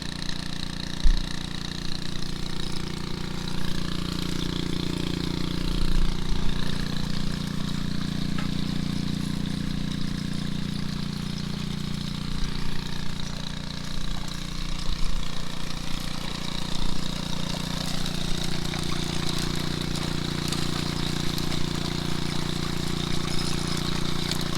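A small 2-inch gold dredge engine runs steadily outdoors by a river bend, a loud continuous mid-pitched drone with slight wavering in pitch and no talk over it.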